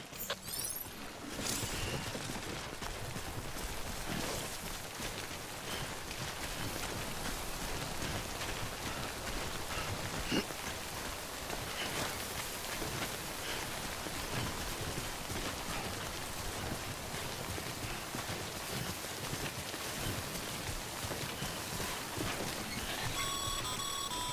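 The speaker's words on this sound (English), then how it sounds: "Don't stay out in the rain any longer than you have to." Steady, dense rain of the timefall kind pours down in the video game Death Stranding, a constant hiss with faint mechanical tones that holds at even loudness throughout, with no talking.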